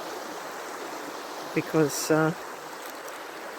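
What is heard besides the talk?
rainforest river flowing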